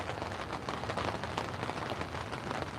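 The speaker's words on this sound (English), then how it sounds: "it's a rainy day here in Virginia" Steady rain falls outdoors on a rainy day in Virginia, a dense continuous hiss of drops on surfaces with no voices, close and even throughout.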